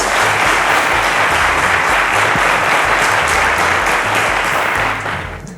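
A studio audience on a televised quiz show gives a round of applause, loud, dense and sustained clapping that holds steady throughout before tapering off at the very end.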